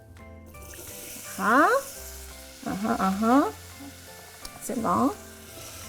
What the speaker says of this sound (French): l'huile dans ma casserole, elle est chaude. Donc ce que je vais mettre les oignons et le céleri.